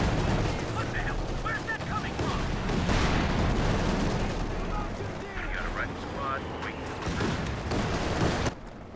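Rattling machine gun bursts and scattered explosions from a Company of Heroes 2 1v1 match, a busy distant battlefield din running steadily under a commentator's voice.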